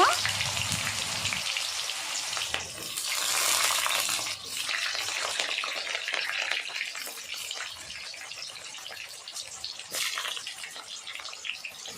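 Boiled jackfruit pieces fry in hot oil, giving a steady, fairly quiet crackling sizzle that continues evenly throughout with no voices.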